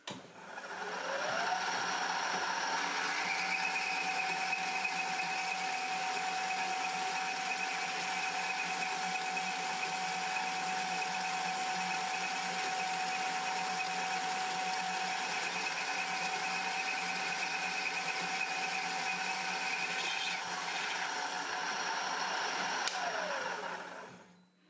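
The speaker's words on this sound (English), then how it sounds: "You hear when you make contact with the previously sawn surface because the engagement of the saw blade changes." A saw blade cuts steadily through metal for about twenty seconds, a constant whirring grind with a sustained ringing tone that shifts partway through as the blade meets a previously sawn surface, then spins down at the end.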